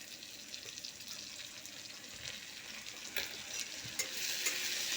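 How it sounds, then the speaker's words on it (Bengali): Potatoes frying in a pan with ginger and garlic paste and cumin, a steady close sizzle with soft stirring scrapes throughout and no talk. "আমার আলুটা প্রায় ভাজা হয়ে গেছে লাল লাল করে ভেজে নিয়েছি"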